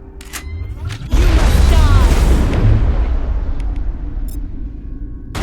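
Heavy gunfire in a battle in the video game Mass Effect, a sudden loud burst with a long rumbling decay that fades over several seconds.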